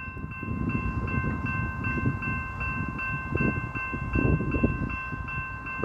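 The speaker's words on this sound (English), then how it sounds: "Bluescope train. Heading to Bluescope. Steel coils." A Bluescope freight train loaded with steel coils rolls past on the tracks, a loud continuous rumble of wagons with a sustained tonal ring and repeated rhythmic clicks throughout.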